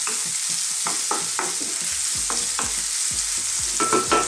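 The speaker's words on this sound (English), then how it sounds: "Okay, these are sauteing or frying nicely" Zucchini, garlic and tomato sizzle in a pan over medium-high heat, with a steady frying hiss broken by repeated scraping stirs of a utensil against the pan, close and without talk.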